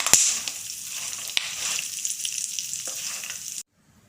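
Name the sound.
walnuts frying in ghee on low flame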